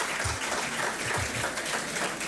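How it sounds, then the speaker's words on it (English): Audience at an International Women's Day celebration applauding His Excellency, a sustained wash of clapping in a hall, fairly even and moderately loud. "Please, another round of applause for His Excellency"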